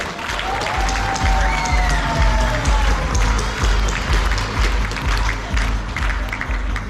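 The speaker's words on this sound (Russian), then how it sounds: "Отдельные аплодисменты!" Steady applause from a crowd, a dense wash of clapping with some murmuring mixed in, continuing without a break.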